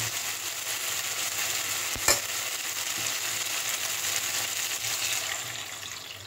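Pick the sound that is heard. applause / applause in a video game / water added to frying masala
water added to frying masala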